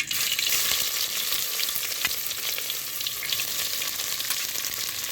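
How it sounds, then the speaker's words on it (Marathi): Mustard seeds and onion crackle and sizzle in hot oil in a pan, a dense, steady frying hiss that carries close and loud through the whole stretch with no voices over it. "तेल टाकू आता मोहरी टाकू कांदा टाकू"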